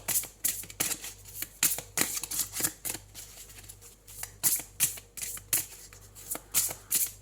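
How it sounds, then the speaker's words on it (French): Tarot cards are shuffled and flipped in a close, quiet room, with a rapid run of crisp paper slaps and riffles in short bursts and brief pauses between them. "Allez, on prend une troisième carte."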